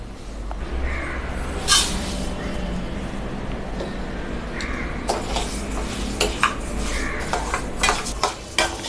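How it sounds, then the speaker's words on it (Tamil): Raw rice and black gram dry-roast in a pan, with a spoon repeatedly scraping and stirring against the metal, giving rhythmic clinks and scrapes over a soft sizzle. "அடுத்து நம்ம பச்சரிசியும் உளுந்தையும் தனித்தனியாக வறுத்து எடுத்துக்கலாம்"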